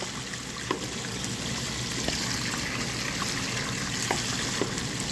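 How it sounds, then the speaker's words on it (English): Water runs into a gold prospecting sluice fed by a recirculating pump system over an old VDR mat, making a steady, close trickling and splashing wash with faint scattered drips throughout. "We're going to put a little water in there."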